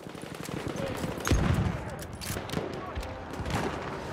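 Bursts of gunfire from Battlefield 1 crack in the middle distance amid battlefield noise, with a heavier blast around the midpoint, while a player talks over the action.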